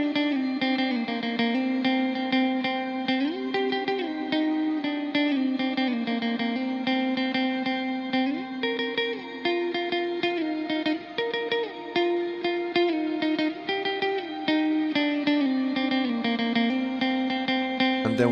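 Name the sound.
electric guitar with compressor and reverb effects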